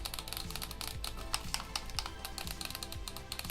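Trigger buttons on an Anbernic RG556 gaming handheld clicking repeatedly, a quick irregular series of sharp plastic clicks close to the ear, fairly quiet and alone.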